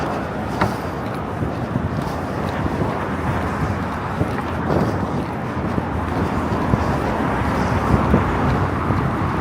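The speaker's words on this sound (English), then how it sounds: "There's a lot of wind and car noise." Steady broadband wind rumble mixed with passing car traffic on a Manhattan street in New York City, a continuous close wash of noise with no distinct events and no talking.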